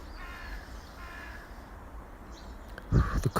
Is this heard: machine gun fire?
no